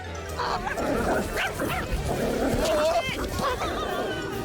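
A startled puppy in a park yips, whimpers and barks excitedly at a goose, in short irregular bursts mixed with voices and outdoor background noise.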